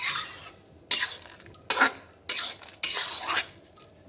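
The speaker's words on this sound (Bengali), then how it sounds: "এইখানে জিরে পাউডার আর কাঁচা লঙ্কা আর একটুখানি হলদি দিয়ে আমি ভালো করে নেড়ে নেব।" Vegetables being stirred with cumin powder, green chili and turmeric in a pan, giving several distinct scraping bursts of a spoon against the pan, fairly close and clear, with no talking.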